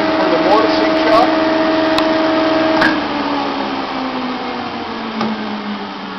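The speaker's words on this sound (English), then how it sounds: "Counter rotation for the mortising shot." A Felder 16-inch combination jointer-planer with horizontal slot mortiser runs steadily with its four-knife cutter head spinning in reverse, a close, continuous machine drone with a tonal hum that eases slightly partway through.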